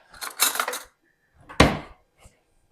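Spoon being picked up from among dishes and cutlery in a home kitchen, making a few close clinks and rattles in two short bursts with a pause between.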